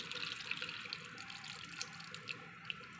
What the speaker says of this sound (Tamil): இந்த உருளைக்கிழங்கோடு சேர்த்து இந்த தண்ணியெல்லாம் நம்ம சேர்த்து ஊற்றி வச்சுக்கலாங்க